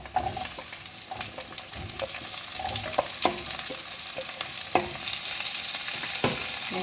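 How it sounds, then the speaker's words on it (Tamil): Onion, garlic and chili sizzle and fry in corn oil in a pan, a steady loud crackle with scattered sharp pops and occasional stirring scrapes throughout. "வெங்காயம், பூண்டு, மிளகா வதங்கிட்டோம்"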